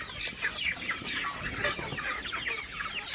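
Several free-range village hens and roosters cluck and chatter together in a busy, continuous flock while being fed rice, fairly close, with no talking.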